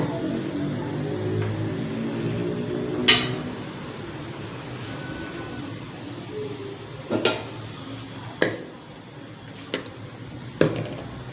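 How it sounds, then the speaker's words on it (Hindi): Onions half-browning in ghee for a mutton shorba korma, sizzling steadily in the background with a few sharp clinks of a spoon on the pan; no one talks. "घी और उसके बाद प्याज को कर लेते हैं हाफ ब्राउन।"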